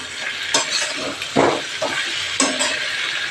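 A vegetable curry sizzles in a pan while being stirred, with a steady frying hiss broken by several louder scraping strokes of the spoon at irregular intervals.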